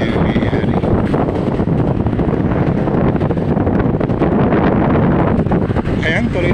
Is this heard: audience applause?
no